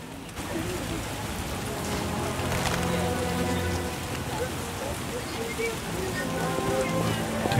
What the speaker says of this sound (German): Es regnet so stark, dass ich nicht sehen kann.